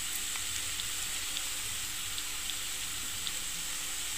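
Ridge gourd frying in a pan for a moong dal curry, a steady, even hiss of close sizzling oil with no pauses.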